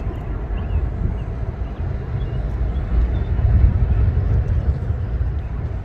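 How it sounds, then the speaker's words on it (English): A British Airways airliner taxiing outdoors on a sunny day, a steady low engine rumble with broadband roar that swells slightly midway, continuous and moderately close, with some wind buffeting. "This is a British Airway pulling out for taxiing."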